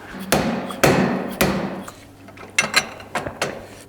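Soft hammer tapping press-fit parts onto a Yamaha YZ250 motorcycle in a workshop: about nine sharp, close strikes, three firm blows first and then lighter, quicker taps.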